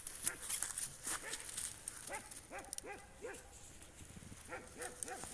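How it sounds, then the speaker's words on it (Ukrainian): A dog barks outdoors somewhere nearby, several rounds of quick repeated barks in bursts, moderately distant and fairly loud over faint background noise, with some footsteps. "Там собака в когось гавкає."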